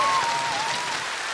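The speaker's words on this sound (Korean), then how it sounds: "박수 주시기 바랍니다" A studio audience at a Korean TV amateur singing contest in Hongseong, South Chungcheong, claps loudly and steadily for a composer walking on stage, a dense, even burst of applause.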